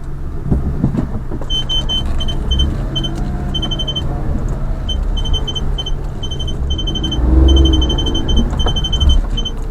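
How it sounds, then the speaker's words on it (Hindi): A car pulls over to the roadside at Kufri near Shimla in Himachal Pradesh, with a continuous low engine rumble and a repeating electronic beeping chime overhead, and a heavier rumble swelling near the end. "तब तो मैं गाड़ी लगाता हूँ साइड में।"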